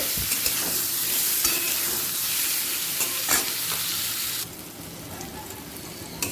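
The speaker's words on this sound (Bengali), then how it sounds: "আলুটা ভাজতে ভাজতে আমি কাঁচকলাগুলো দিয়ে দিচ্ছি কাঁচকলা আর আলু একই সাথে" Potatoes and raw green bananas fry together in an oiled pan, giving a steady sizzle broken by a few stirring scrapes, which quiets noticeably toward the end.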